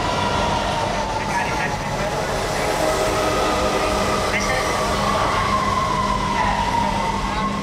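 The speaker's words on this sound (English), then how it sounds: "Last stop for this train." Train pulling into Union Station in Washington, D.C., a continuous rumble with a drawn-out metallic squeal and brief sharp tones, while a voice speaks over it.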